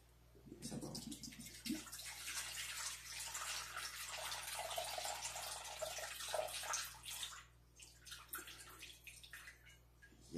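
Broth for a chicken soup made with coconut juice pours into a pot as a close, splashing, gurgling stream that holds for several seconds, eases off, then picks up again briefly.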